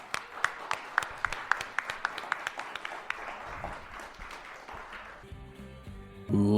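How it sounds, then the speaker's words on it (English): Studio audience applause opening a podcast episode, a burst of fairly faint, rhythmic clapping that fades out over several seconds before a louder musical sting takes over at the end. "Please clap."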